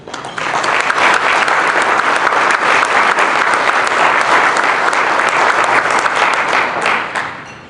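Audience at a Texas Baptist breakfast applauding newly elected leaders: loud, sustained clapping from a full room, rising quickly and holding steady before tapering off at the end.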